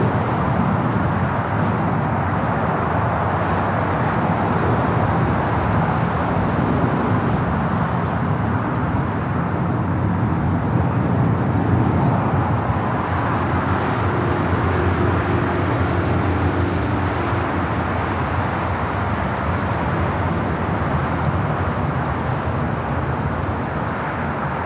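A Delta Boeing 757-200 taking off at LAX bound for Lihue, producing a loud, continuous engine roar that holds steady for the whole stretch, with no voices over it.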